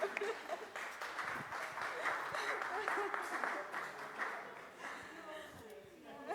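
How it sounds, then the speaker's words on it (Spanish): An audience at a book presentation claps, a moderate, steady patter of hands that softens toward the end, with voices talking underneath. "Aplauso."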